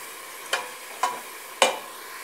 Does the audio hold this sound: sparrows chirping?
no